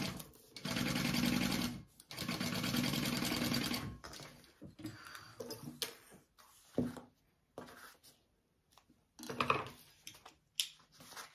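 A sewing machine stitches the top of a bag pocket with right sides together. Two sustained runs come first, then a series of shorter, stop-start bursts with brief pauses, close and fairly quiet.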